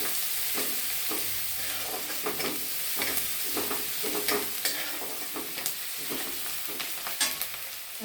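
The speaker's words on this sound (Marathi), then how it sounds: "कांदा छान तांबूस होतोपर्यंत परतायचा" Onion sautéed in a pan of hot tempering oil for a spicy tomato vegetable dish, a constant sizzle overlaid with repeated scraping, clattering spatula strokes in an irregular rhythm, close and fairly loud, no talking.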